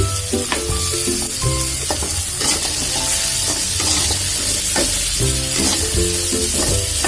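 Potatoes with cumin sizzle and fry steadily in a hot pan over low heat, with a continuous crackling hiss and occasional clinks of a utensil stirring.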